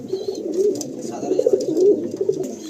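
Mastani breed pigeons with black eyes cooing inside a loft at Dakhineswar, a steady low murmur of overlapping coos with a few brief bird calls and faint voices in the background.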